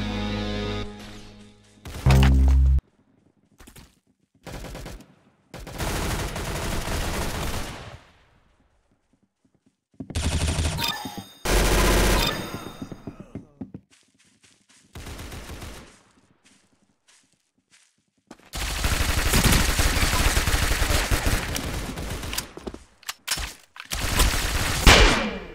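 Roblox game gunfire in the middle of a match: sharp shots and rapid bursts come in irregular clusters separated by silent gaps, loud and close, ending in a long sustained stretch of continuous firing.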